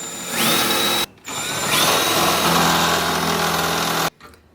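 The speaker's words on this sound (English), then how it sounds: "I have to drill." A power drill whines loudly in two bursts while drilling into metal, the second longer and grinding steadily, with a brief pause between them and close, harsh motor tone.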